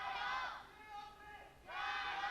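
A large esports crowd roars and cheers in two loud swells, dipping briefly in between, distant and reverberant like an arena.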